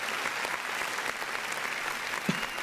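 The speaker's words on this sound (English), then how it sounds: "Round of applause for him and his work." A small group applauds steadily in a dense, even patter of claps lasting a few seconds, with no talking over it.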